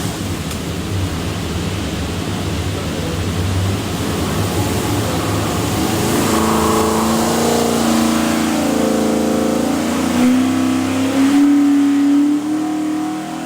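A stack-injected 427ci Windsor V8 with Holley Terminator X fuel management revs up steadily on a dyno, its loud roar climbing in pitch over several seconds before easing back.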